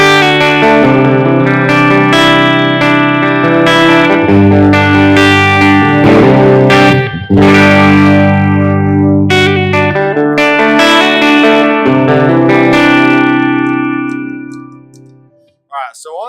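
Electric guitar played through a Line 6 HX Stomp with reverb placed after the amp model: sustained, effects-laden chords and notes ringing out loud and continuous, then decaying into a reverb tail.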